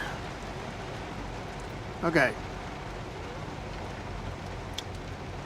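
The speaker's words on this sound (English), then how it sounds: "Man, it is raining something" Heavy rain on the outside of a truck cab: a steady, dense hiss that never lets up, with a brief spoken word and a short clunk partway through.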